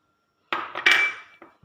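Mutton and chopped onions are dropped into a pressure cooker, heard as a short burst of close metallic clinks and thuds against the pot after a moment of silence, with no talking.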